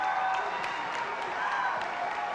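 A crowd applauding a martial arts forms demonstration at the 1999 US Open, dense steady clapping with scattered louder claps and faint cheering in a large hall, under low voices.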